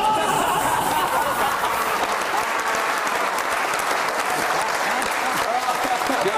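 Heavy, sustained applause fills a studio as the audience of a Pakistani comedy talk show welcomes a guest, a thick unbroken roar of clapping with crowd chatter beneath.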